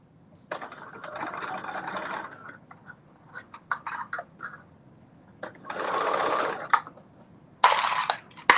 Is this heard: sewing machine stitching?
yes